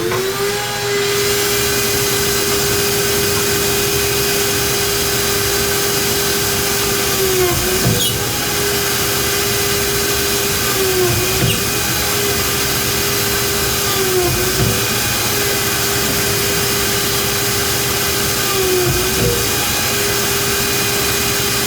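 A Kreg beaded face frame pocket-hole jig runs with a steady, loud motorized whine throughout, with brief plunging dips every few seconds as each pocket hole is drilled into the face frame.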